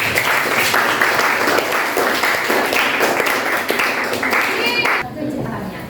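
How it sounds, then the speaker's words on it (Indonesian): A classroom of students claps and cheers in dense, lively applause for the top-ranked classmates, lasting about five seconds before quickly dying away. "silakan berikan tepuk tangan dulu untuk peringkatnya"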